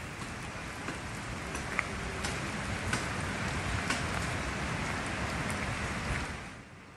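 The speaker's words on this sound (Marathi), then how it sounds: "राजापूरमध्ये सध्या जोरदार पाऊस बरसतोय।" Heavy rain pours steadily in Rajapur, a dense continuous hiss with scattered sharper drop impacts, constant and close throughout, easing slightly at the very end.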